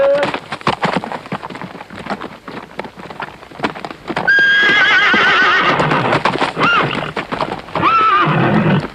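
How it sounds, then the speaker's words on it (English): A wild war horse neighs loudly and repeatedly up close, shrill whinnies rising over thudding clip-clop hooves and a rain-like patter of movement. "Anyone could see at first glance the horse was completely wild"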